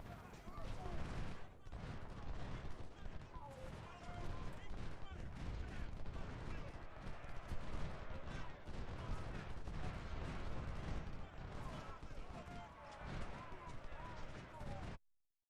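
Massed musket volleys and booming artillery from a Civil War battle at Malvern Hill in Ultimate General: Civil War, a continuous loud fusillade with heavy thuds, cutting off abruptly at the end.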